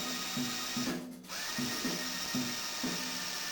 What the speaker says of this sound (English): we will drill out the countersink holes for the T-nut fasteners